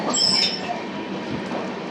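The 12862 Superfast Express rumbles steadily along the tracks at about 130 km/h with a broad roar, high wheel squeals rising near the start, heard from on board.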